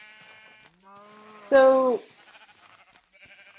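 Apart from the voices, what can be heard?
sheep bleating in the video game Minecraft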